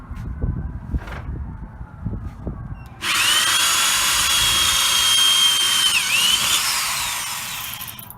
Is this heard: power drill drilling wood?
yes